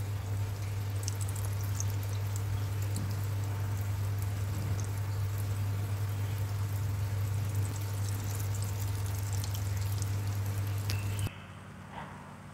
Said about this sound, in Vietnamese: Mình chiên với cái mức lửa là vừa.